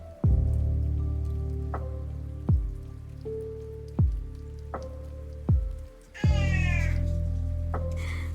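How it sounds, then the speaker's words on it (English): A house cat meows repeatedly while the room is otherwise quiet, giving several clear, close cries in a slow, irregular rhythm, with the last one longer and more drawn out. "That's Coco meowing"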